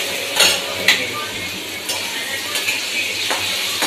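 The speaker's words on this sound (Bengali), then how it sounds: "এই যে মাছ চচ্চড়ি করছি।" Fish chorchori cooks in a pan with a steady close sizzle, broken by a few sharp clinks of a spoon or spatula against the metal, no talking.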